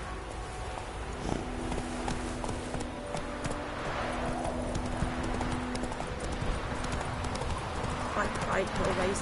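A horse's hooves clop along at a steady rhythmic pace in the video game Witcher 3. The footfalls are close and distinct, and a voice is heard briefly alongside them.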